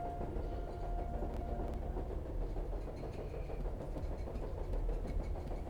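Train carriage rolling in the video game Charnel House Trilogy, a steady low rumble with faint clickety-clack running continuously at an even level throughout.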